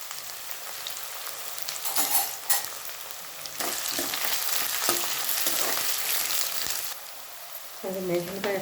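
Beetroot palya with garlic sizzles steadily in a hot pan while being stirred, the frying hiss continuous with scraping stirs and a brief break near the end.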